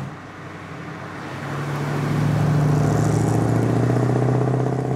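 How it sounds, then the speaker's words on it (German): A 1965 Ford Mustang convertible's V8 idles with a deep, steady rumble close by, then swells louder after a couple of seconds and holds a strong, even drone as the revs rise. "bei diesem Klang, den dieser Motor bringt"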